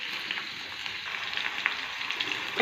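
Cauliflower and carrots frying in a pan give a steady, bright sizzle with small crackling pops, close and continuous with no talking.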